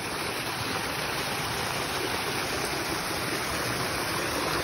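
Floodwater pours into one big basin in flooded woods, a loud, steady, unbroken rushing roar of water with no voices over it.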